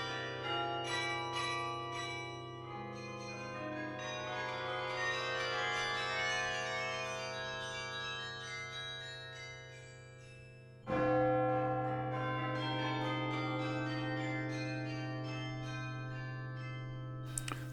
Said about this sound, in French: un système automatique commande des cloches pour jouer automatiquement les ritournelles